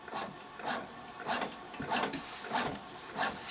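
Cricut machine printing a Halloween page, a faint mechanical whirring and rubbing in repeated short passes, back and forth at a steady rhythm, close and quiet.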